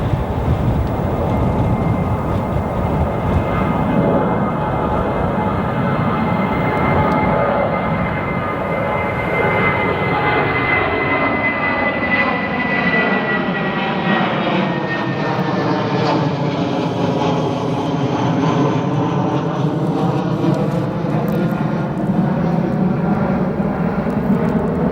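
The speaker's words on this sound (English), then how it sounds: "United Airlines Flight 511 and A319 headed to Portland, Maine. Nice little smoke trail behind it." A United Airlines A319 takes off from O'Hare at night, trailing smoke, its engines a loud, sustained roar with a whining tone that bends and shifts as the jet passes and climbs away.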